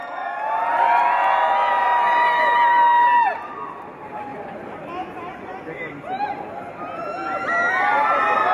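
An audience at the Guruvayoorambala Nadayil trailer launch in a Dubai lounge, with Prithviraj Sukumaran present, bursts into loud cheering and shrill whoops, falls to a lower murmur of chatter, then swells into another round of shouting near the end.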